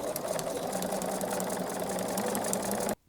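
A sewing machine stitching quarter-inch binding onto a quilt runs in a fast, steady mechanical chatter close by, then stops abruptly near the end.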